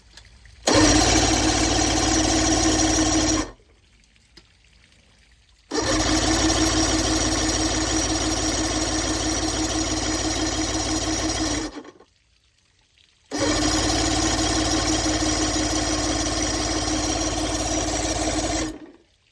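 A 1978 Evinrude 175 horsepower two-stroke outboard cranks three times in long, loud, steady bursts of several seconds each, with short quiet gaps between them, and no speech over the engine.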